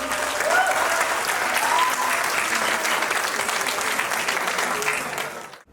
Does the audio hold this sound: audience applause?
yes